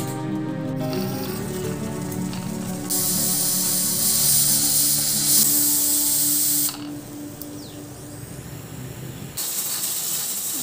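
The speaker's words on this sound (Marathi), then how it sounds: "आपल्या कुकरच्या पाच शिट्ट्या झालेल्या आहेत" A pressure cooker holding corn cobs with turmeric on a gas stove vents steam in loud hissing whistle bursts, one long blast after a steady simmering hiss, then another burst starting near the end.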